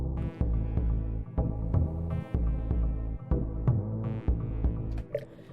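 An overdriven 808 tom layered with a Reaktor 6 sub bass from a TRK01 Deep Touch preset plays a deep, throbbing bass line, with repeated punchy low hits in a steady rhythm, close and alone with no talk.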